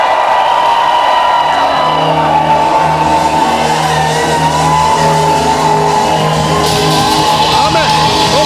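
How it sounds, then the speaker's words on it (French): A church congregation shouts and cheers for joy, a sustained dense roar of many voices with whoops rising above it, loud and continuous throughout. "poussez des cris de joie."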